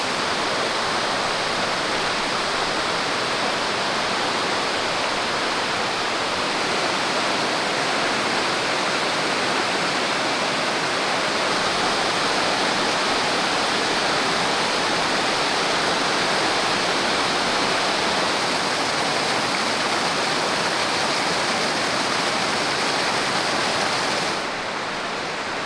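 Steady, loud roar of a waterfall seen on an off-road trail drive in a Jeep Gladiator Rubicon, a dense broadband rush holding constant from start to finish with no voices over it.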